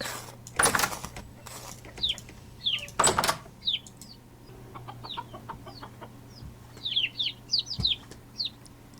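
Chickens in the Vintage Story video game cluck in short, scattered bursts, with a couple of heavy knocking thuds early on, fairly close and alone without speech.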